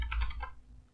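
Keys on a computer keyboard tap a few times in quick succession, soft and close, then die away into quiet.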